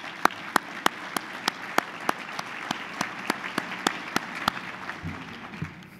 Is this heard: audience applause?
yes